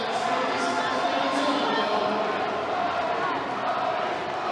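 Crowd at the Arnold Strongman Classic 2022 cheering and roaring continuously at a strongman event, a dense wash of voices with a commentator talking over it.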